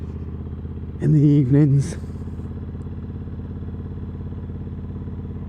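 A bobber motorcycle engine runs as a steady low drone throughout an evening ride, with a voice speaking briefly over it partway through.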